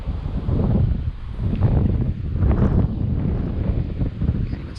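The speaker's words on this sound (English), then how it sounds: "This wind is even blowing off my veil here." Gusty wind buffets the microphone outdoors beside a beehive during a hive split, a continuous loud rumbling roar with no clear speech.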